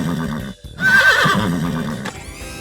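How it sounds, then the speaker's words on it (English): A cartoon siren on a construction-vehicle character neighs like a horse, a bright whinnying call that rises over a steady sung tune, with a short gap before it and music continuing underneath. "and now, of course, your siren neighs, just like a horse."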